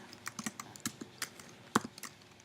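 Close, quiet typing on a computer keyboard while entering a spreadsheet formula, a loose string of light clicks with one harder keystroke near the end, the press of the Enter key.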